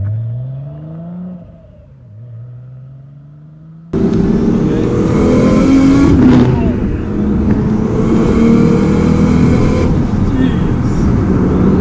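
A 700bhp Nissan Skyline accelerates hard, its engine roaring loud and steady from inside the car after a quieter stretch of rising and falling engine tones, with a brief gear-change dip partway through.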